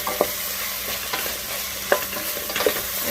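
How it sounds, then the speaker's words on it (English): Leftover food sautéing in a pan with sesame oil sizzles steadily up close, broken by a few sharp stirring clacks and pops, with no one speaking. "And just toss this all in. I am going to obviously add what's left over on my plate. Waste not, want not. Because this has to saute down"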